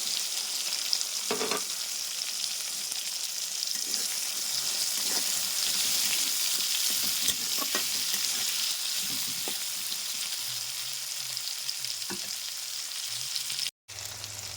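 Steady, loud sizzling of potatoes frying in a pan, with occasional stirring clinks and scrapes, continuous throughout with no talking.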